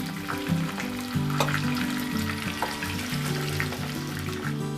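Whole onions frying in hot oil for a Kathiyawadi curry give a steady sizzle and bubbling, close by, with a faint background tone and no talk.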